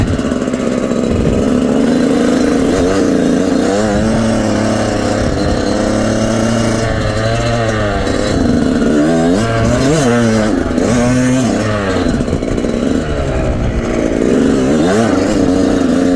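Yamaha YZ125X two-stroke dirt bike ridden off-road on forest OHV trails, its engine revving up and down in quick repeated bursts, loud and close throughout with no talking.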